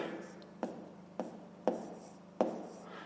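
A pen scratches across paper while a fraction subtraction is worked out for a fifth-grade maths exercise, with a few short sharp strokes over a soft continuous scribble, close and quiet.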